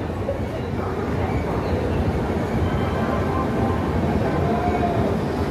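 The Sealdah–Bamanhat Uttarbanga Express stands at Malda station platform 2, a steady low rumble of the train and station filling the scene, with a murmur of voices in the background.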